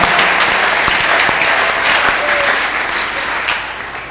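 An audience claps at a church sermon, a dense, loud round of applause that tapers slightly toward the end, with faint voices mixed in.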